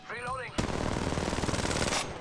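Rapid automatic gunfire rattles loudly from Apex Legends Mobile gameplay, a dense sustained burst of shots lasting about a second and a half, preceded by a brief spoken exclamation.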